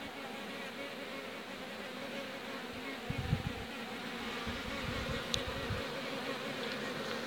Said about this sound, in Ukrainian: Вони такі хороші, як такі крупні пчоли-зборщиці.